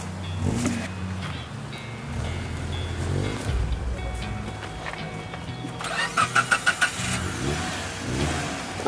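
A 4x4 off-road vehicle's engine turns over on its starter motor in an outdoor setting. Rumbling engine noise runs throughout, and a quick series of about five sharp cranking bursts comes near the end.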